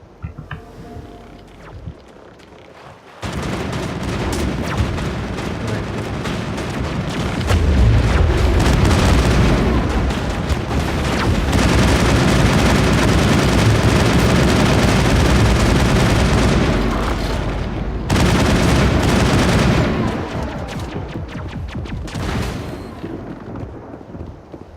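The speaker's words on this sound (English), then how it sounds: "Monovai is under coordinated crossfire." Coordinated crossfire erupts in a Mass Effect battle at Virmire, with dense, sustained gunfire and booming blasts that run loud for about fifteen seconds, pause briefly, then return before fading.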